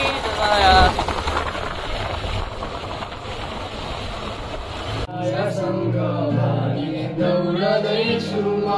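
A tractor engine runs with a rough, steady broadband rumble for about five seconds, then cuts to voices and music-like tones that take over the rest.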